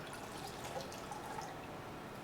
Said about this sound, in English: pick that sponge up and wring it out.